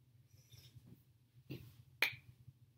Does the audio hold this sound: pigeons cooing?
no